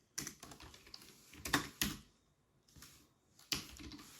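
Quick bursts of keystrokes clatter on a computer keyboard while Java code is entered, close and clear with short pauses between clusters of presses and no talking.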